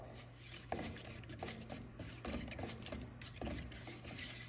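Wheel paint being stirred in a can, a rasping scrape repeating roughly every half second to second, close and alone.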